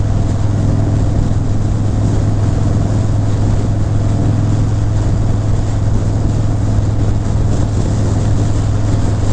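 A Harley-Davidson Breakout motorcycle cruising on the highway, its engine a steady, loud low drone blended with constant wind roar, unbroken for the whole stretch with no talking.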